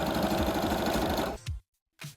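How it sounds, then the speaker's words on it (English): A sewing machine stitches fabric seams for a cosplay hat in a fast, close whirring run that stops abruptly. Two short bursts follow after brief pauses. "I can sew the remaining seams between the 2 bumps"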